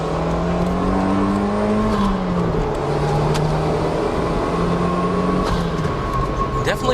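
A Toyota Celica WRC engine climbs through its revs toward the red line near 6,800 RPM, a loud, smooth rising drone with harmonic sweeps that dip and climb again, heard close up without talk.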